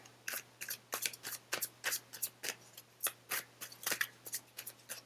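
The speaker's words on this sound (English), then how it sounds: "Let's go ahead and shuffle for those who picked cards" Crisp, rapid slaps and riffles of tarot cards being shuffled repeatedly in a quick, uneven rhythm, close by and otherwise quiet.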